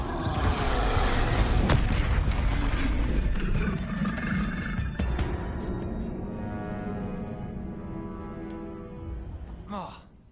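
Spell cast in Hogwarts Legacy, a loud magical burst with a rumbling, boomy onset that rings out and fades over several seconds, ending with a short sharp chime-like swish.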